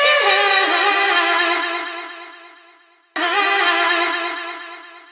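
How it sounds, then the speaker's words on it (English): A tech house vocal riff sample sings a sustained, wavering note that slowly fades, then restarts abruptly at full strength and fades again. "it's just this little vocal riff that I have here"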